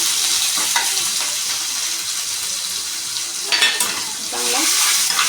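Ginger garlic paste and thecha crackle in hot oil with curry leaves, cumin and mustard seeds, a dense continuous sizzle broken by a few clinks of a stirring spoon against the pan.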